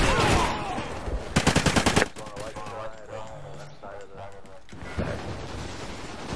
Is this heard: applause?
no